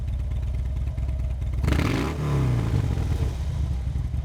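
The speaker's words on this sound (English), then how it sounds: "Make sure you let the motorcycle return all the way back down to an idle before you rev it up again." A V-twin motorcycle with a Rekluse clutch idles with a low throb, revs sharply, then drops back to idle, close and without talk.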